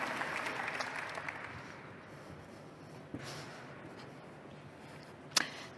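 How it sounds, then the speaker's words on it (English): Audience applause welcoming panelists onto the stage at an EU industry high-level roundtable, moderate and fairly distant, heaviest early then thinning out, with a sharp knock near the end. "Let's give them a round of applause to welcome them on stage."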